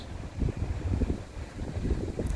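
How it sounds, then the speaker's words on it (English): Gusts of wind buffeting a microphone outdoors in Medicine Hat, low irregular rumbling puffs that rise and fall throughout at a moderate level. "It's probably the wind. It always does this in the wind."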